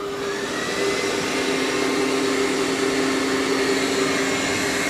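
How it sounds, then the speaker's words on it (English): A robot vacuum with its mop pads lifted runs over carpet, giving a steady, close whirring hum with a constant tonal whine and no breaks. "mop pads are lifted and it's going to vacuum that carpet"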